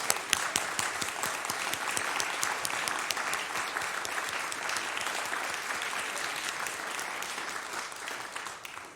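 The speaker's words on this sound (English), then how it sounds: "Let's pause and try that applause again." Congregation applause during a Sunday church service, a steady wash of many hands clapping at moderate distance, even and sustained before tapering off at the close.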